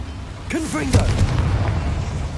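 A Confringo fire spell blast in the Hogwarts Legacy video game bursts with a loud, rumbling boom right after a voice shouts, then a dull roar lingers.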